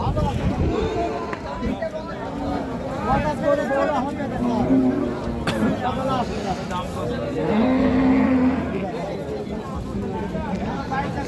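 A Friesian cow lows repeatedly at a busy cattle market, its long deep moos rising over constant crowd chatter and nearby talk in a windy outdoor setting.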